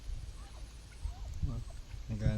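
Turkeys gobbling at a distance near rice paddies, faint warbling calls rising out of low rumbling outdoor noise and wind.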